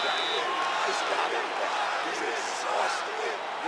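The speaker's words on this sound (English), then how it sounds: "the crowd pops in appreciation as the fighters work their way back to the field" A virtual arena crowd in the UFC 5 video game cheers in a sustained, dense roar of voices and whoops filling the background without letting up.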